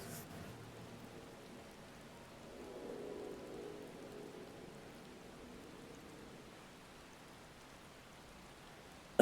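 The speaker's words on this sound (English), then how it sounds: "Also, does it have to be raining?" Steady rain falling in Final Fantasy XIV: Dawntrail, a soft continuous hiss of drops with a gentle swell partway through, faint and even with no voices.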